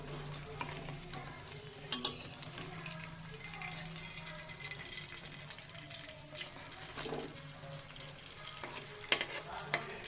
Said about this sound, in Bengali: এখন আমি তুলে নেবো বেশি করে ভেজে নিচ্ছি